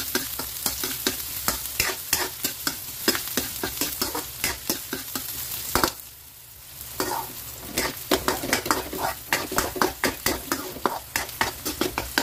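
Garlic frying in a pan with onions is stirred for breakfast, giving steady close sizzling broken by rhythmic scraping strokes of the utensil, with a brief lull near the middle before the stirring resumes.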